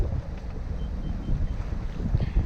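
Wind gusting over a sailboat out on a fjord, a continuous close blustery rush and buffeting against the microphone with low water and hull rumble beneath.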